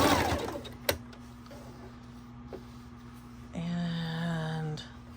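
A sewing machine runs briefly for about a second of close, steady mechanical stitching, following a quiet stretch with a faint hum and a few handling clicks.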